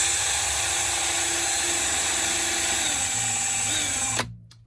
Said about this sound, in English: to use that drill to just clean off all the corrosion from the piston